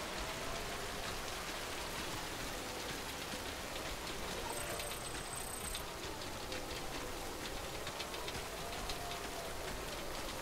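Steady rain pours in the video game Death Stranding, a dense continuous hiss of drops on surfaces with no voices, holding at an even level throughout.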